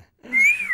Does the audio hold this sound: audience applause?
no